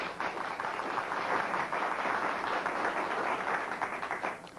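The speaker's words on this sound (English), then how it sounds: "Let's give him a big round of applause" Studio audience applause on a talk show, a dense, steady wash of many hands clapping that holds loud for several seconds before easing off slightly at the end.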